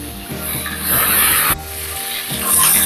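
Onions, dried red chillies, curry leaves and garlic fry in hot oil, a steady close sizzle with scraping and stirring noises rising and falling throughout.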